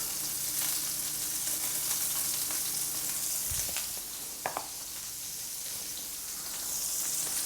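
Butter melting and sizzling in a hot pan while cooking shrimp for a surf and turf dinner, a steady soft frying hiss with a couple of small clinks and bumps midway.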